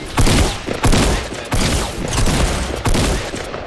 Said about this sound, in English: There's men behind you shooting at you.